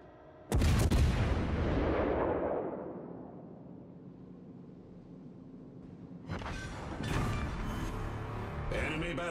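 A British cruiser, the Devonshire, fires its naval guns in World of Warships: a sudden huge boom that rolls and decays over seconds, then another crackling salvo of blasts, loud and close, with battle noise continuing.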